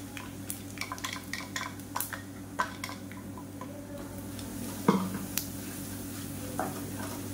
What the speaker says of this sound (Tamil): இப்போ நம்ம அரைச்சி வச்சுருக்க அந்த மசாலாவை இந்த எண்ணெயில் போட்டு வதக்கி வச்சுக்கலாம்.